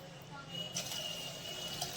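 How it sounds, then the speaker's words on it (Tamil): Water pours steadily into a cooker over washed rice, two glasses of water for each glass of rice. It makes a continuous, moderately quiet rushing sound with a few brighter splashes. "ஒரு கிளாஸுக்கு ரெண்டு கிளாஸ் தண்ணி ஊற்றிருப்போம்"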